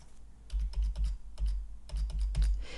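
Close-up typing on a computer keyboard, a quick run of key clicks in short clusters, no voices.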